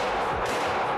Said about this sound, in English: Heck yeah, let's shoot.